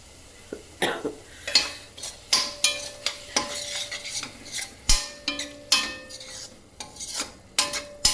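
Masala roasting in a pan for a turnip and fenugreek dish, with repeated rhythmic scrapes and clinks of a spoon stirring over a low sizzle, close by and without speech.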